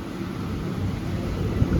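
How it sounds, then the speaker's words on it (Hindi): Cool wind blows outdoors at a restaurant, a steady broadband rush with low rumbling buffets against the microphone and no voices. "इतनी ठंडी ठंडी हवा चल रही है।"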